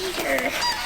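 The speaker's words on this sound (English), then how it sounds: "Skeeter's chasing the turkey" A turkey being chased by a dog on a farm gives short, honking squawks in a quick burst, close by, with a person talking over the calls.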